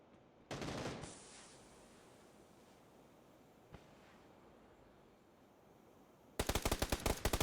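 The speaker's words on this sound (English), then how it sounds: "All those shots right there are being taken by the mates." Gunfire in the video game PUBG: a short burst early, a single distant shot in the middle, then a rapid loud automatic burst at the end, over a quiet wind-like background.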